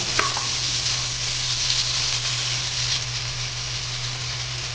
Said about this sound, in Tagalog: Magigisa na tayo ng ricado.